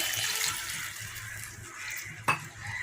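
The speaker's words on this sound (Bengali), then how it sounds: "এবার আমি এর মধ্যে পরিমাণ মতো জল দিয়ে দিচ্ছি" Water is poured into a pot of gurjali fish jhal curry, a soft, quiet splashing trickle that ends with a single sharp clink.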